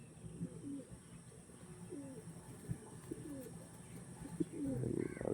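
Young pigeons give soft repeated coos, a handful of low throaty calls spaced evenly across the stretch, faint to moderate against a steady background hum, ending with a louder rustle.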